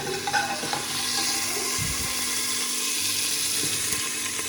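Potatoes fry in hot oil for a home-cooked vegetable dish, giving a steady broadband sizzle with a few soft stirring knocks, close and continuous with no talking.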